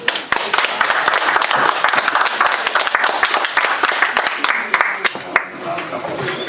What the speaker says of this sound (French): je vous demande d'applaudir s'il vous plaît